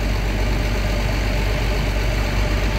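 An Allis Chalmers 190XT Series 3 tractor, hitched to a three-shank Allis subsoiler, idles with a steady, loud, low rumble that holds unbroken throughout, with no voices.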